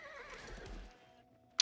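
A horse gives a single quavering whinny in the Call to Arms video game. The call is fairly quiet, fades after about a second and ends with a faint click.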